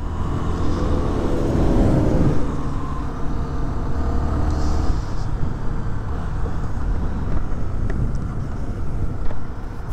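A 2021 Honda Twister 250 motorcycle engine running on the move, a loud steady drone mixed with heavy wind rush against the microphone.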